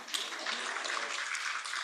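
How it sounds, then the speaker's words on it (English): Conference applause at a global symposium on civil registration and gender, a steady, even rush of many clapping hands heard from a distance. "Let's give them another round of applause."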